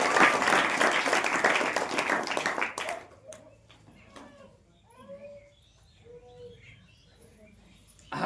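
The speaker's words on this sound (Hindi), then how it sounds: "ताली बजाकर" Congregation applause at a Saturday church power meeting, a dense wash of many hands clapping for about three seconds before it cuts off into quiet room tone with faint chirps.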